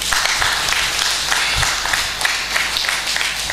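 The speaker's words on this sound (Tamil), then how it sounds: "நம்ம உண்மையாகவே கைத்தட்டி கொடுங்கண்ணே" An audience at a book launch applauds with steady, dense clapping that fills the room without pause, and no single clapper stands out.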